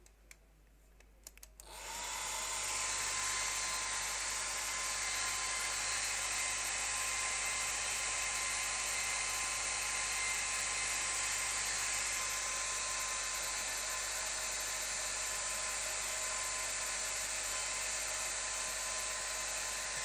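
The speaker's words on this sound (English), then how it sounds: "Get the hairdryer on this. So it'll be a little bit noisy for a second." After a brief quiet start, a hairdryer switches on to dry a watercolour painting, running at a constant high whine with a steady airy rush, close and unbroken.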